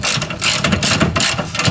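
Ratchet tightening the lower trailing arm bolt on a Honda Civic, a close, loud run of rapid metallic clicks in repeated bursts with brief pauses between strokes, no talking.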